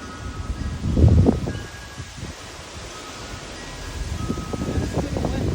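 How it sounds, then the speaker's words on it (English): Gusty wind rustling tree leaves in an urban area before a storm, close rushing swells that rise, fade in the middle and build again, with microphone buffeting. "It's windy"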